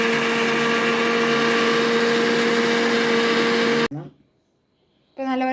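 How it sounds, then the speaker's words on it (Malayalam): A kitchen mixer grinder whirs loudly and steadily while grinding ginger, fenugreek, chili powder, coriander powder and salt, then cuts off abruptly, followed by a pause and a brief restart. "പൊടിക്കട്ടെ. ഇതിൽ ഇഞ്ചി, അതിനോട് ഉലുവ, മുളക് പൊടി, മല്ലിപ്പൊടി, ഉപ്പിട്ട് കൊടുക്കും."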